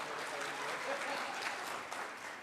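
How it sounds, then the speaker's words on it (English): Steady applause from an audience at a social media community breakfast meetup, a dense, even patter of many hands clapping for a couple of seconds. "yeah, go ahead, clap"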